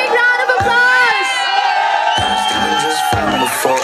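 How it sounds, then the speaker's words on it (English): An evening motorcycle-brand event crowd cheers and whoops with shouting voices, loud and close, with bursts of sound rising and falling over a few seconds. "big round of applause"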